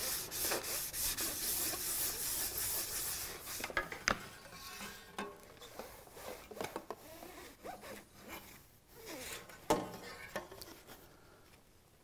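Scratched anodized aluminum is sanded and polished by hand: close, quiet rubbing and scraping strokes in an irregular rhythm, with a denser burst of friction at the start, no voices.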